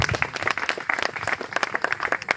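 A congregation claps at a church wedding, dense brisk applause from many hands, steady and close, filling the whole moment with no speech over it.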